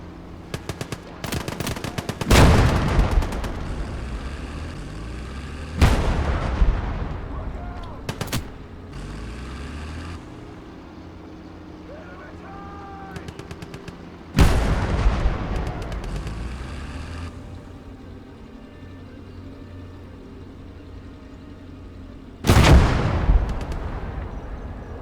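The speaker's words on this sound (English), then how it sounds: "mortar barrage" Heavy mortar barrage in the World War II strategy game Call to Arms: Gate of Hell, with four loud booming impacts spaced several seconds apart, each trailing into rumble, plus scattered smaller gunfire between them.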